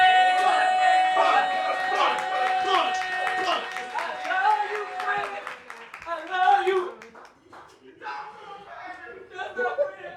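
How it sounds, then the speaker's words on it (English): An audience at a poetry slam claps in a quick burst of applause with cheering voices mixed in. The clapping fades into scattered claps as the crowd settles. "one round of applause for Quinn Killen!"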